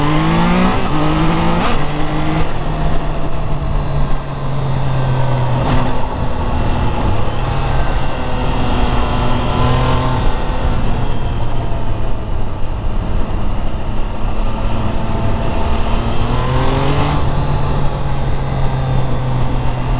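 A Triumph Trident 660 motorcycle being ridden, its engine droning steadily with rising and falling pitch as it accelerates through the gears, loud and continuous against constant wind and road noise.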